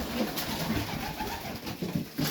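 Junior Serbian highflyer pigeons coo softly and repeatedly in a loft, a steady low murmur of overlapping calls with no talking.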